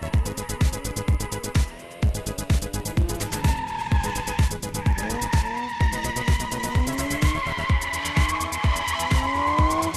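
A BMW M3 engine revving hard with repeated rising and falling whines while tires squeal continuously, a loud, close drifting car on a circuit with no talk.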